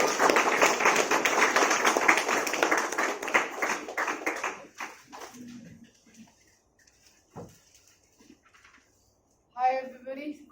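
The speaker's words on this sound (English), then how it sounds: "Please, a big round of applause." Audience applause at an installation ceremony, dense rapid clapping for about five seconds that thins to a few scattered claps and fades into near silence, with a voice starting up at the end.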